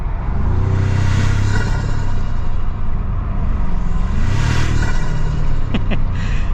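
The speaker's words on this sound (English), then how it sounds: "It's the little turbo noise. So here, I'll roll down the window so you guys can hear this." A 2025 Toyota Tacoma Trailhunter pickup accelerating with the window down, loud cabin engine drone rising and falling in pitch with a turbo whoosh riding on top, and a couple of brief clicks near the end.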